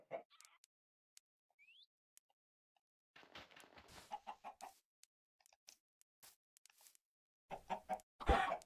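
Chickens in the Minecraft video game cluck in short, scattered bursts against near silence, some calls faint and others louder, with a brief burst of game sounds at the end.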